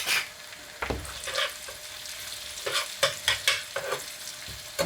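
Green chilli dropped into hot garlic butter for tarka dhal, frying with a steady close sizzle and bursts of crackle as the pan is stirred, several sharp spitting pops toward the end.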